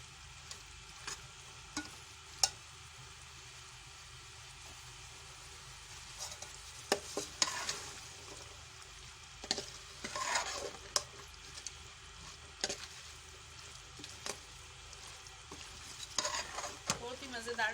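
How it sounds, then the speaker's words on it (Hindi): Black chickpeas fry with spices in a pan, a soft continuous sizzle broken by intermittent scraping clinks of a spoon as they are stirred, close and moderately quiet. "अच्छे से भूनूंगी मैं मसाले के साथ इसे।"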